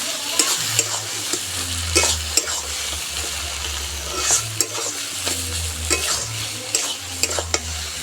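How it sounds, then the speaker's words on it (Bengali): Papaya curry with chicken stirred after a pinch of sugar goes in, with a continuous sizzle under repeated scraping and clinking strokes from a spoon against the pot, close and steady throughout. "চিনিটা দিয়ে একটু নেড়ে চেড়ে দেবো"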